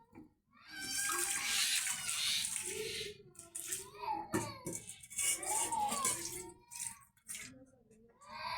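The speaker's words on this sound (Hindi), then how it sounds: "ये देखो आवाज़ें दे रहा है, नल का खराब हो गया हमारा नल का।" A broken household water tap sputters and rushes loudly with a steady hiss of running water, which gives way partway through to voices talking over the flow.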